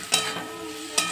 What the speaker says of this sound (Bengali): দিয়ে দিলাম লবণ, হলুদ গুঁড়ো, লঙ্কা গুঁড়ো দিয়ে মশলা ভালো করে কষিয়ে নেব।